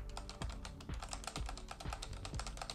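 Fast typing on a quiet MSI membrane-style keyboard with soft, non-clicky keys, a dense run of light tapping keystrokes with a few heavier thumps, steady and close with no voices.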